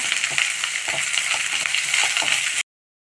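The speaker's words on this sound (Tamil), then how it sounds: "பீர்க்கங்காய் தோல் நல்லா வதக்கிடலாம் கொஞ்ச நேரம்" Ridge gourd peel sautés in a pan, a close, bright sizzle with rhythmic stirring scrapes, steady until it cuts off abruptly near the end.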